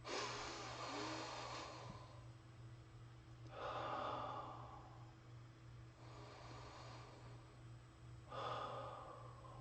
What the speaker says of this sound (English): do some deep, deep, deep breathing exercises for like 20 minutes